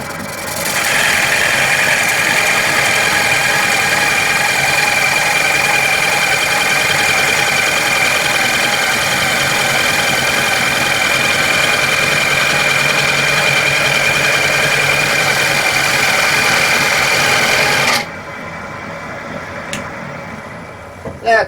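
A wood lathe spins a black walnut blank at 650 RPM, giving a loud, steady whir and hum that runs unbroken for about eighteen seconds before cutting out abruptly into near quiet.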